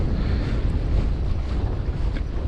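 Cold northern wind buffeting the microphone outdoors on a fishing trip, a continuous heavy rumbling roar with no pauses, loud and close, with no voices.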